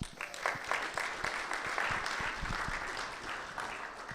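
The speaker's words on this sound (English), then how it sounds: "Let's give them a round of applause." A crowd claps steadily in a dense patter of applause that lasts the whole stretch and slowly eases off.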